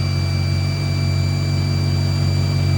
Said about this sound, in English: This is how she should sound at idle.